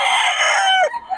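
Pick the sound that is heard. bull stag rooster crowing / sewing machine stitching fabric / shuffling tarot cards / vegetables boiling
bull stag rooster crowing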